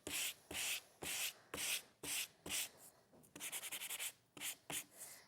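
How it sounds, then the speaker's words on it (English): Teal card being sanded by hand with a sanding block, a close, quiet series of rhythmic scratchy rubbing strokes, about ten even passes followed by a quicker burst of short strokes. "I can then go in sand that back. and sand that."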